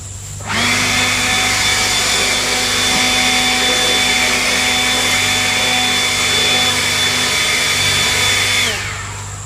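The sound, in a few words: blower blowing bees out of honey super boxes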